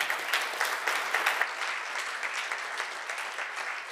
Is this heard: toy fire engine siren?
no